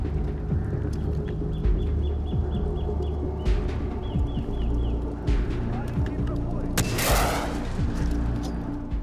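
Gunfire and a loud explosion from the video game Far Cry 4, with a burst of shots and a sharp, broad blast near the end. A player talks throughout, mostly beneath the game sounds.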